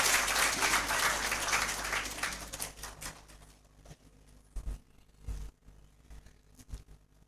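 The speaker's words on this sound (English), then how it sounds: "Big applause for him." A seated audience at a university guest lecture gives dense applause for an arriving guest, the clapping loud at first and then thinning into scattered, isolated claps as it dies away.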